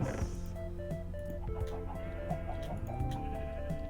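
Minecraft chickens on a survival farm clucking in short repeated bursts over a steady game backdrop with layered music-like tones, fairly close and continuous without talk.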